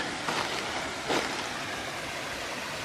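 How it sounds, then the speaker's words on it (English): Steady broadband rush of a waterfall down in a soft-soiled forest sinkhole in Bankhead National Forest, Alabama, heard as continuous wash with a couple of brief louder swells, no talk. "Waterfalls over to the left."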